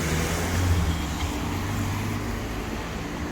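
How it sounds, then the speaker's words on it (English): A full-size diesel bus engine rumbles steadily through a city street in York, a deep continuous drone with low harmonics holding at moderate loudness throughout, with no voices over it. "So it is a full diesel bus, that one."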